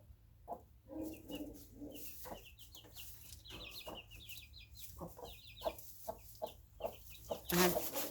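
Hens cluck softly in a loose, irregular rhythm while teaching chicks to forage, with thin peeping chirps from the chicks mixed in, fairly close and moderately quiet.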